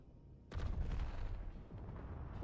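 Cannon volley in the video game Space Engineers, fired from double cannons: a sudden heavy blast, then a dense rumbling roll of shots that stays loud and sustained for about two seconds, with no voices.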